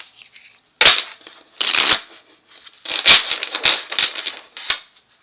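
Several bursts of tarot cards being shuffled, crisp riffling flutters separated by brief pauses, close and fairly loud.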